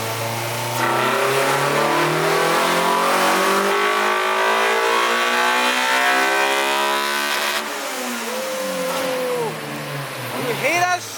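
Honda Type R EG hatch with a B18C5 engine revving hard on a dyno, a loud sustained climbing engine note that holds, then drops away and blips again, with people talking over it.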